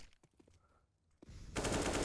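Rapid automatic gunfire erupts in a Counter-Strike competitive league match, loud and sustained after a brief isolated shot and quieter in-game movement sounds.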